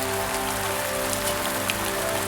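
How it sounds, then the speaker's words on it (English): Steady rain patters against windows on a windy evening, a dense, even hiss that holds without a break for a couple of seconds, with a few faint, scattered drop ticks and a low rumble underneath. "As the rain began to patter against the windows"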